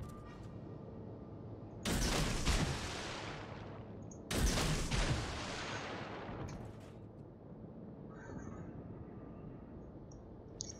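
Naval gunfire in World of Warships: two heavy broadside salvos about two seconds apart, each a loud sudden blast that rumbles and fades over a couple of seconds, over a steady low engine and sea drone.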